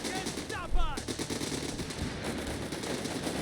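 Sten Mark II submachine gun fire in the Company of Heroes 3 war game: a short burst of rapid shots rings out amid a dense, continuous din of battle.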